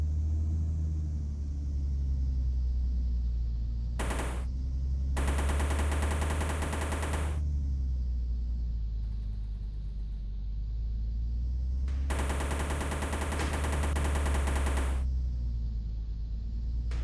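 Car engine held at full throttle in the racing video game RD Racing, a loud steady drone that runs through the whole clip, broken by several bursts of harsh broadband noise.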